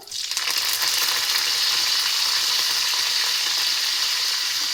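Cumin, mustard seeds and curry leaves hit hot oil in a pan for bhindi palya, bursting into a loud, sustained hissing sizzle that holds steady at close range, no talking.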